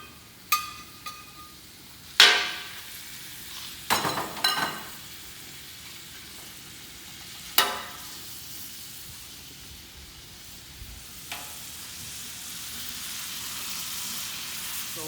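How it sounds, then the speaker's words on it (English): Two pounds of ground beef browning on a flat top grill, a soft steady sizzle broken by several sharp scraping and clanking spatula strikes, with no talking. "So while I was just browning up the meat, getting it all cooked up"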